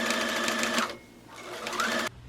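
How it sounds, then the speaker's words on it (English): A sewing machine top stitching the outer edge of children's dress collars, running in two steady bursts with a brief pause between them, close and clear with no talking. "I am going to top stitch the outer edge of the collars as"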